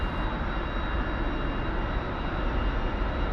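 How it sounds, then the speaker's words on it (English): Aircraft taxiing in the DCS flight simulator game: a steady, loud engine drone with a constant whine, unbroken and even throughout, no voices. "Even when you're taxiing down, it's smooth as fuck."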